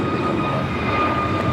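Alaska Airlines Boeing 737-800 jet in Star Wars livery at LAX, heading out to Cabo, giving a steady, loud engine roar with a constant whine held through the whole moment, no voices over it.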